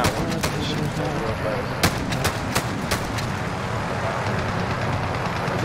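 Rapid gunfire from a weapon in Modern Warfare Ground War, with a string of sharp cracking shots in quick succession over a busy battlefield din, fairly close and mixed with background combat noise.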